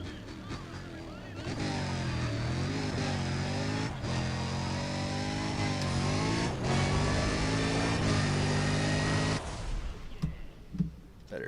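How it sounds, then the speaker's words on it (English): Need for Speed car engine revving hard and steady for about eight seconds, pitch climbing and dropping through gear shifts, loud and close, then cutting off into quieter game noise. "The car sounds are satisfying"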